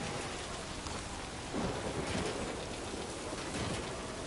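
Timefall rain in the video game Death Stranding 2 pours down as a dense, steady hiss, with a low rumble of thunder swelling briefly in the middle of the heavy downpour. No voices are heard.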